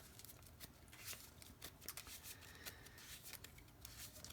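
Magic: The Gathering creature cards being shuffled by hand, a soft continuous riffling and rubbing with brief crisp flicks, quiet and close, no talking.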